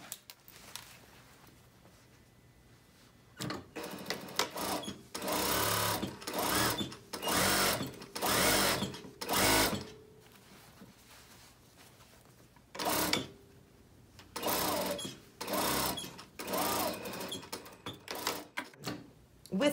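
A sewing machine fitted with a zipper foot stitches a zipper into velvet for a knife-edge bolster, running in several loud, close bursts of rapid stitching separated by short pauses.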